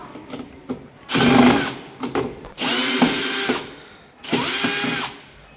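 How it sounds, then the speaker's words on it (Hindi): A power drill unscrews the nuts on an LG direct drive front load washing machine, three separate loud whirring bursts of a second or more each, with short pauses between them and no talk. "तो नट खोलिए, मशीन से खोल लीजिए।"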